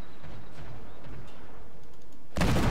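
Main guns of the St Louis warship in World of Warships fire in one sudden loud blast near the end, after a low, quiet rumble of engine and sea ambience.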